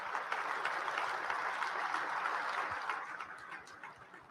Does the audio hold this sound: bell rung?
no